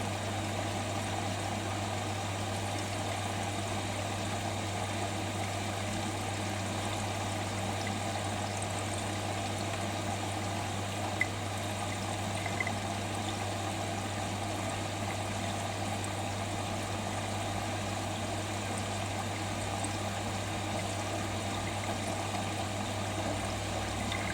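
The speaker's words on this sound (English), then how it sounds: "Now into second rinse stage now anyway." A Siemens iQdrive Extraklasse WM14T492GB washing machine on its second rinse, giving a steady, low, continuous hum with a faint flow of water, unchanging and without voices throughout.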